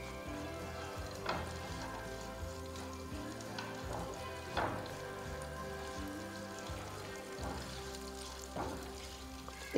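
Dry fruits sizzling as they fry in ghee for suji halwa: a steady, faint crackling hiss throughout, with occasional louder pops and stirring scrapes, no voices.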